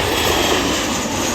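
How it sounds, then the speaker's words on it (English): Low-flying airliners passing about 100 feet overhead as they come in to land at Washington National Airport, heard from Gravelly Point as a loud, steady jet roar that fills the whole stretch with no break. "The planes pass over your head at about 100 feet as they're coming in to land."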